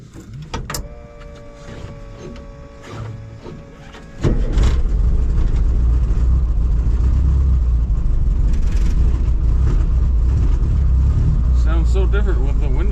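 Old car engine cranked and fired up: quiet clicks and mechanical noises first, then the engine catches abruptly and settles into a loud, steady, rumbling run with revving close by.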